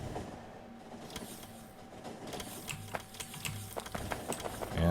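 Train rolling along rails in the Factorio factory-building game, a soft rhythmic rumble and clatter under faint clicking, steady and moderately quiet throughout, growing slightly louder toward the end.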